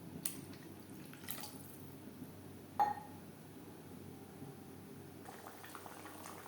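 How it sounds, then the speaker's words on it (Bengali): A fish curry gravy of tilapia boils on a high flame, giving a soft, continuous bubbling with occasional quiet drips and one brief louder splash partway through. "গ্রেভি বেশ ভালো করে ফুটতে শুরু করে দিয়েছে"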